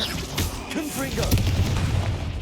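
A Confringo fire spell goes off in Hogwarts Legacy, a short, heavy boom with a burst of crackle. It lands amid ongoing combat noise, with a voice speaking over it.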